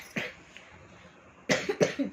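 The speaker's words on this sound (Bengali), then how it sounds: "দেখো কেমন কাশি হচ্ছে বন্ধুরা" A feverish boy's cough, then a pause before two close, harsh coughs in quick succession, with a quieter cough just after; no talking.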